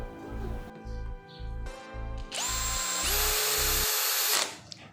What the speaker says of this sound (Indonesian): apabila kita gunakan bor Bosch ini untuk menyekrup, dan jika sekrupnya sudah masuk secara keseluruhan ke medianya, dia akan mati secara otomatis